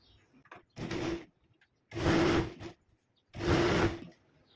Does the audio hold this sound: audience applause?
no